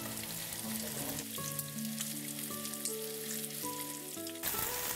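Prawns sizzle and crackle in hot olive oil in a home kitchen, a steady close frying hiss beneath sustained background music, with no talk.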